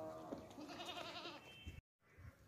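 Two-teeth male goat at a livestock sale bleating loudly and close, a wavering cry lasting over a second, followed by a short pause and low rustling.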